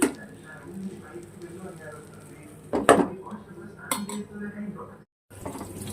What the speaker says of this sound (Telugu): ఇప్పుడు దీన్ని మూత పెట్టేద్దాం.